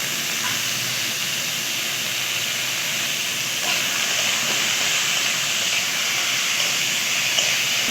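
Washed leafy greens hit a hot pan and give off a loud, steady, close hiss of steam that holds evenly for several seconds.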